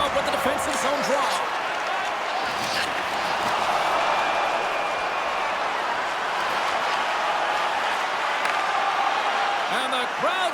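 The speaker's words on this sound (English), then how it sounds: "And the crowd's on their feet, saluting the team after a hard-fought effort this evening." An arena crowd at an NHL hockey game between Los Angeles and Toronto cheers and applauds at the end, a steady loud roar of mass applause and shouting that fills the whole stretch, with a commentator talking over it.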